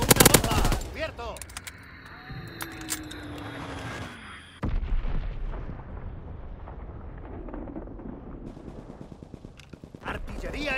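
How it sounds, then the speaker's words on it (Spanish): Enemy artillery and gunfire in Call of Duty: WWII multiplayer: a sharp burst of blasts and rapid shots opens, then a rumbling lull with scattered distant bangs and a whistling shell, and another crack near the end, with shouted voices. "¡Artillería enemiga! ¡A cubierto!"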